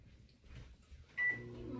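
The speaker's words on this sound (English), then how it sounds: "Microwave my tortillas for a minute" A microwave oven heating tortillas hums steadily at low level, then a sharp electronic beep sounds close by, followed by a continued running drone.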